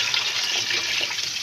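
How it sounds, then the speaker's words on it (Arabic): Hot water pours onto tilapia fish in a cooking pot, a continuous close splashing rush of liquid lasting the whole brief moment. "وهنحط عليها على طول المية السخنة"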